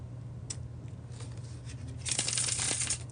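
Riffle of a bridge shuffle with a deck of playing cards: a brief flick, then a dense burst of crisp flapping card edges near the end, over a steady low hum.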